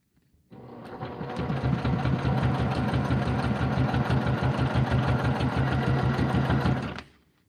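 A sewing machine stitching binding onto a project bag, running in one steady, fast, rhythmic burst for about six seconds, close and clear, then stopping abruptly with no talk over it.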